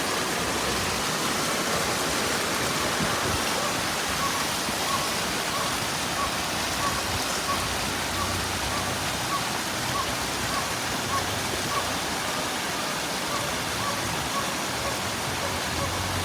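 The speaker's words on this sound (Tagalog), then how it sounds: "Umuulan pa." Steady, heavy typhoon rain in Occidental Mindoro hisses continuously throughout, a dense rushing wash of water noise with no pauses or other distinct sounds.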